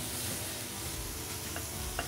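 Butter melting in a pan at the start of a roux for gravy, a soft, continuous low sizzle with faint crackles, fairly quiet and steady throughout, no voices.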